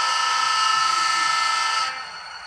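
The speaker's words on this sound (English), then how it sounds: "Then we have the air horn." A loud, steady model train air horn blares continuously with rich harmonic tones, then cuts to a quieter lingering tone near the end.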